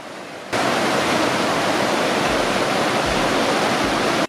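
The Kasanga River in the Eastern Andes of Ecuador rushes in a steady, loud broadband roar of flowing water that starts abruptly and continues unbroken, close by and with no voices.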